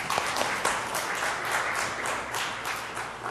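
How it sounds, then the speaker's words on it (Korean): An audience of high school students and guests claps steadily for a few seconds, a dense, even patter of many hands at moderate distance. "여기 지금 이거 박수 한번 쳐주세요"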